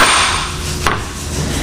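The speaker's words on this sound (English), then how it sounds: "the hammer doesn't have to be real big, because there's enough weight there with this piece that it is driving it right out" A single sharp hammer strike drives out the old rear main seal on a 6.9 IDI diesel engine, the blow ringing once amid steady shop background noise.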